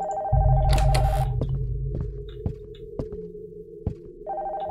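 An old-style telephone bell rings in the horror game Nocturnal Visit, a loud sustained ring that stops, then a series of sharp knocks or thuds at intervals before the ringing starts again.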